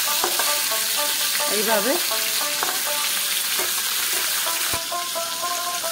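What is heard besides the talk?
rohu fish pieces frying in oil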